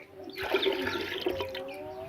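Water poured into a cooking pot for masoor dal, a steady rushing splash lasting throughout, close and moderately loud with no talking.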